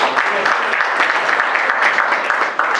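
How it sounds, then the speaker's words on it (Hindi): Clapping from the audience at a short-film launch event in Shahdol, greeting an additional collector, a dense, loud and even burst of applause throughout. "तालियों से स्वागत करेंगे।"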